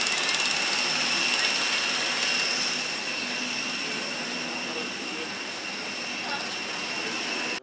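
Jet engine roar from an airliner landing, loud and sustained, with high whining tones that ease off slightly partway through.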